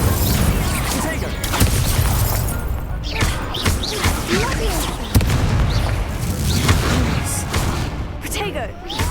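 Incendio fire spell blasts in the Hogwarts Legacy video game, a string of loud booming bursts and crackling impacts layered over dense game music and effects, with a voice speaking in places.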